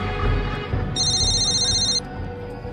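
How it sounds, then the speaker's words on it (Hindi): A telephone rings once with a bright electronic tone lasting about a second, over a low rumbling background. "फोन है बस"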